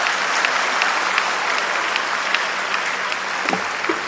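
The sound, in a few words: audience applause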